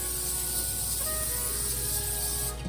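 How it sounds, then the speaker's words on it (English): Canola oil sprays onto aluminium foil in a steady, close hiss that runs for a few seconds before easing off near the end. "Take some canola oil and spray on the bottom"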